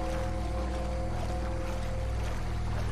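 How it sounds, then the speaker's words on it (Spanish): A motorboat on water in Red Dead Redemption 2 gives a steady droning engine hum with water wash, continuous and fairly loud throughout, with no talking. "Eso es una lancha."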